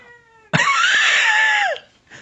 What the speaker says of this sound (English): The cat's literally right in front of me, right in front of the microphone.